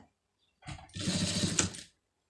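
Close sewing machine stitching piping onto a tailored neck piece, a single run of just over a second with a rapid whirring, rattling rhythm, then silence.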